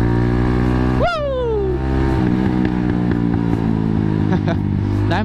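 A Kawasaki Z200 motorcycle engine, untuned, runs steadily, with a sharp backfire pop and quick rev early on, followed by uneven sputtering and crackles; voices can be heard nearby.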